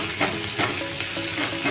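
Onions with a little salt sautéing in a pan for a Kerala-style chickpea curry, a close, steady sizzle with soft stirring scrapes, no talking.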